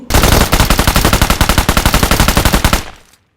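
Automatic gunfire from the mobile battle royale game BGMI, played on an iPhone 13 Pro, rattles in one long, loud rapid burst of evenly spaced shots before cutting off into silence.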